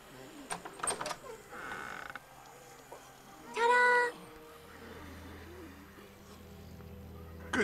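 A creaking door swings open in The Walking Dead video game, a short loud groan standing out over quiet ambient hum, with softer clicks and bumps before it.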